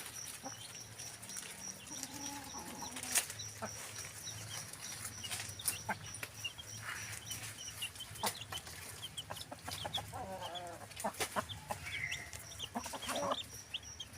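Chickens and young chicks cluck and peep on a farm in a steady, busy chorus. Scattered louder calls rise over the flock throughout, with no talk.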